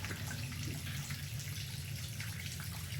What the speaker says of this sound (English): the spout has turned on, and the water is going directly into my pool